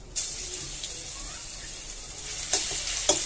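Crushed garlic sizzles steadily in hot oil with black cumin seeds, a close continuous frying hiss with a few brief stirring clatters near the end, no voices.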